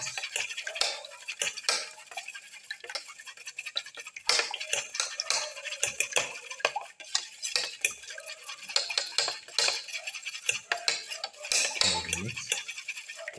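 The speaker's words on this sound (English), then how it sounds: "Mix the yellow and the white portion of the eggs together." Beaten eggs whisked with a utensil in a bowl for a black pepper tomato omelette, giving a busy run of quick metallic clicks and taps against the dish, steady and close throughout.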